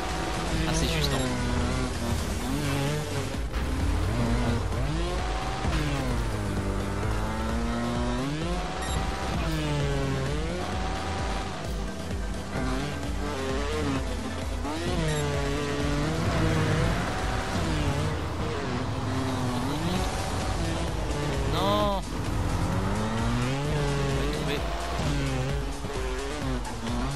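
A motorbike engine in the video game Trials Fusion revs and whines continuously, pitch rising and falling with throttle and jumps, while a player talks excitedly over it throughout.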